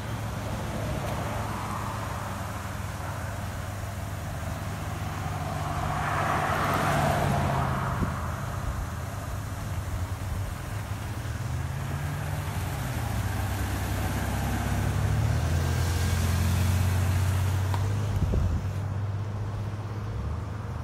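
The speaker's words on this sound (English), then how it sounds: "So we have another vehicle coming up now." Vehicle approaching on a road near a nuclear generating station, its engine and tire noise swelling gradually to a peak and then easing off over a steady low background hum, fairly distant and soft overall.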